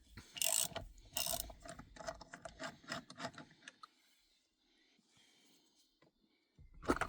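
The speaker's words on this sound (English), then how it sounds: "Get your T55 socket and remove the centre nut" A ratchet with a T55 socket clicks in quick, uneven bursts while undoing the centre nut of an Audi A8L W12 steering wheel, close and fairly quiet, then pauses before a final click.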